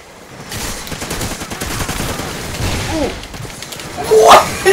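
Gunfire in the shooter game Call of Duty: Ghosts, with bursts of rapid shots and crackling impacts rising from a noisy background and growing louder toward the end.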